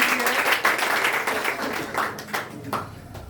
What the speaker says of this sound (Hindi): सितारा के लिए जोरदार ताली